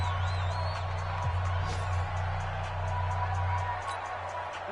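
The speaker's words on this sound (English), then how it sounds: "The crowd getting into it as we come up on a big 3rd down." Stadium crowd in a football video game swells with steady, dense cheering and roaring at a big third down, a constant wash of noise with a low hum underneath and no clear talk over it.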